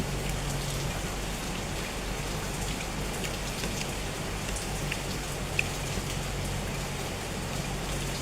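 Steady rain pours down continuously, a dense hiss of drops striking surfaces, with no voices and no break in the downpour.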